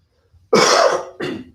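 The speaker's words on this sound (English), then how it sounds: "I didn't really have to cough, but I wanted to" Two close, forceful coughs, a longer one followed by a shorter one, with silence around them.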